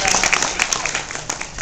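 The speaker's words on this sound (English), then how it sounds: "give Kelly a round of applause" Brief applause and scattered cheering from an audience as a performer is called up, bright clapping with a few whoops over a short burst.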